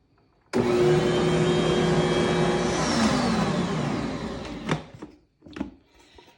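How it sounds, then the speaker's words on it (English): An electric hand mixer whirs steadily as it mixes pudding in a bowl, running loud and continuous for about four seconds before cutting off, followed by a few faint clicks and knocks. "I'm obviously just mixing the pudding up"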